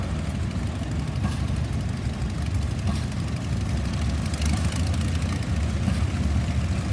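A 1950 W9 tractor engine runs at a steady low rumble in an outdoor equipment parade. It is loud and continuous with no talk over it.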